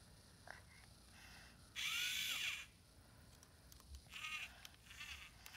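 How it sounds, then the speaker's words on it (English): A child's toy drill spins with a buzzing motor whine that rises, holds for about a second, then drops; a second, shorter whirring burst follows, close and quiet, with no talking. "the blue button makes the drill spin around"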